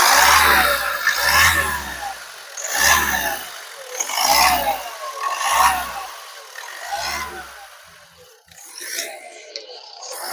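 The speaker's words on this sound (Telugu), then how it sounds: "गाड़ी स्टार्ट कराना भैया एक बार। राइस देना हल्का से राइस।" A Ford EcoSport Titanium Plus engine is revved several times in close succession, each rev rising and falling in pulses, before it settles; heard up close, with no talk.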